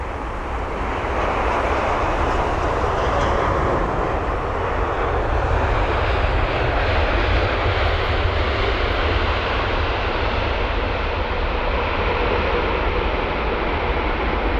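An Oman Air jet arriving at London Heathrow on flight WY101 from Muscat produces a loud, steady, broad engine roar with a heavy low rumble, sustained evenly throughout without voices.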